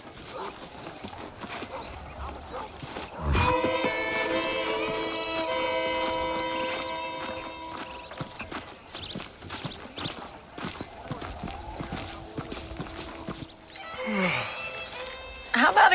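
Horse hooves clip-clop in the Western video game Red Dead Redemption, a steady rhythmic beat heard close under game music and spoken dialogue.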